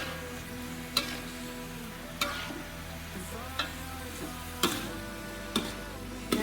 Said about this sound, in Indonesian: jangan lupa sekali-sekali kita aduk juga jengkol dan kacang kecipirnya